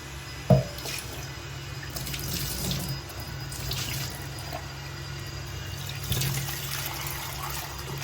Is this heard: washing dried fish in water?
yes